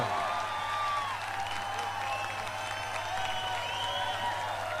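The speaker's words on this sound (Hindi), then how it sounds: "तालियों की गड़गड़ाहट के साथ उसे अपने दरमियान बुलाए हैं" A crowd at a church preaching event applauds to welcome comedian Johnny Lever, with a thick wash of clapping mixed with whistles and cheers over a low electrical hum.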